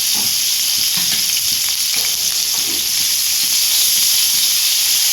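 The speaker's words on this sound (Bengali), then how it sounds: "সামান্য নুন, সামান্য হলুদ দিয়ে একদম ভালো করে কাঁঠালটাকে ভেজে নেবেন।" Boiled, drained jackfruit fries with salt and turmeric in a hot pan for a Bengali echor dalna, a loud, steady sizzle and hissing spatter with faint stirring knocks, heard close and free of talk.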